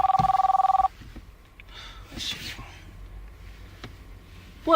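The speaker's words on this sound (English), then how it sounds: "Who is calling my phone?" A telephone rings in a short electronic burst at the start, then the room goes quiet with faint background shuffling and a brief tone at the end.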